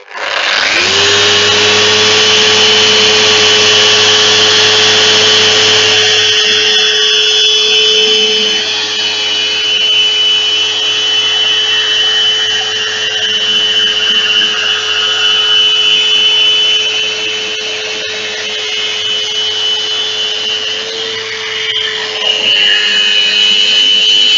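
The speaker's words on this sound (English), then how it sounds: "You're getting bored with me doing a bit of sanding" A Festool Rotex sander runs continuously with a steady whine, its pitch shifting slightly as it sands wood, loud and close.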